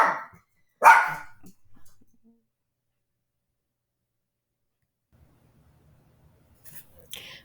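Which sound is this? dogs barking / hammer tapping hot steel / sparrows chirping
dogs barking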